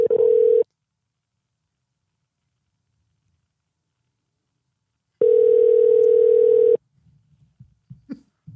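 A telephone dial tone heard while calling a Sonic drive-in restaurant in Dripping Springs, a steady loud tone that cuts off, pauses in silence, then returns for over a second before faint noises follow.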